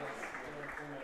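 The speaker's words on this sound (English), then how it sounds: "The crowd clapping out of respect." Spectators clap at a junior diving championship springboard final, a steady wash of applause heard up close and continuous, with a commentator's voice faintly under it.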